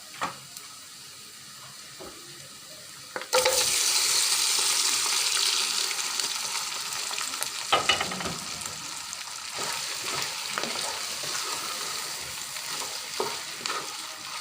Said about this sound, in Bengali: এখন আমি রান্না করা মাংসটা দিয়ে দেবো।